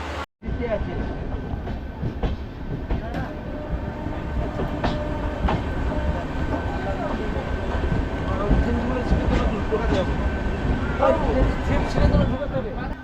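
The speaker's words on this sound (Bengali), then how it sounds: "তো আমার ট্রেন এখন ছেড়ে দিল ভেরাবেল জংশন থেকে" A train departing Veraval Junction, rumbling and rattling steadily on the tracks, heard from a sleeper coach, with a loud continuous roar and rhythmic clatter growing slightly as it picks up speed.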